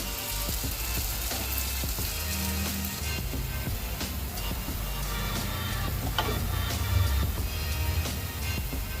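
Wheat flour mixed-vegetable pudla batter spread in a nonstick pan sizzles steadily and close, a continuous hiss broken by small scraping clicks, with no talk.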